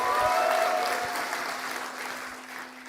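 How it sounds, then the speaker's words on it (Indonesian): A hall audience gives Professor Sulistiawati Irianto warm applause at a doctoral graduation speech, a dense, continuous roar of clapping that slowly thins, with a faint tonal hum underneath. "Profesor Sulistiawati Irianto, kita berikan tepuk tangan yang meriah."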